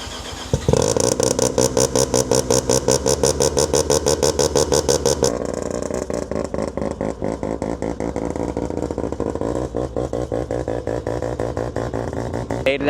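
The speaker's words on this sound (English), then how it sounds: "He's pulling out the RX-7." A Mazda RX-7 engine burbles and revs as the car pulls out at a JDM meet, a close, loud, rapid pulsing exhaust that shifts pitch as it moves off.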